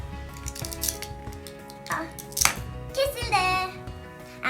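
Scissors cut open a cargo package with several sharp close snips and crinkling plastic, while a voice talks quietly in the background.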